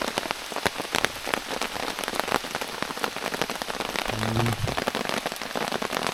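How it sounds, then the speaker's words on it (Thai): Heavy rain pouring down in a deep forest at night, a dense continuous hiss of drops drumming on leaves and surfaces, steady and close with no break. "ฝนตกแรงแล้วมื้อนี้"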